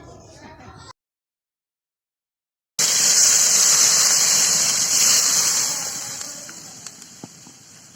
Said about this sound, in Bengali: পরিমাণ মতন জল দিয়ে দিই